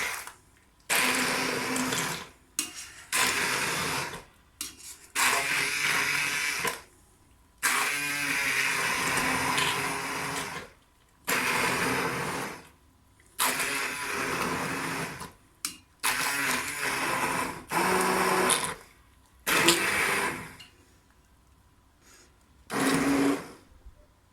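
A hand blender crushes red peppers for pepper paste in repeated whirring pulses of a few seconds each, loud and close, separated by brief pauses.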